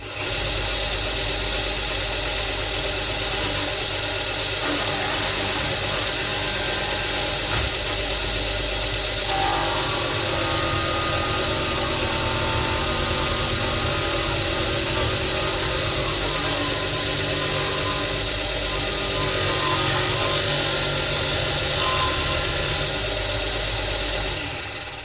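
A Vonhaus tabletop bench sander runs continuously while sanding a piece of wood, giving a loud, close, steady motor whine with a gritty abrasive hiss, the tone shifting slightly as the wood is pressed against the belt.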